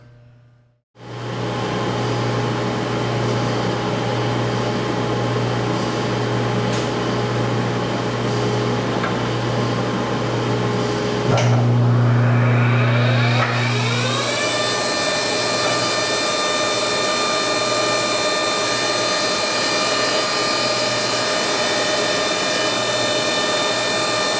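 A Baileigh JP-1686 jointer/planer starts up and runs steadily, a loud close machine hum with a strong low drone that climbs in pitch partway through into a sustained high whine, continuing alone without speech.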